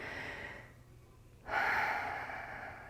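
A person takes a deep, audible breath with the shoulder blades squeezed together, a soft airy exhale and then a stronger inhale close to the mic, alone without speech.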